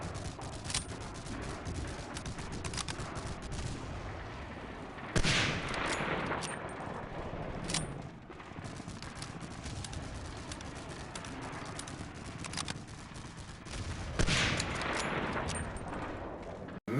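Machine gun fire from MG-42 gunners in the World War II shooter Medal of Honor: Allied Assault, a steady distant rattle of bursts with a few louder close volleys standing out against a constant battle din.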